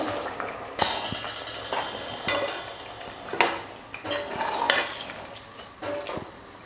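A spoon stirs drained basmati rice into boiling tamarind water in a pressure cooker. Close, irregular scrapes and metallic clinks ring out over a steady bubbling hiss, with no voices.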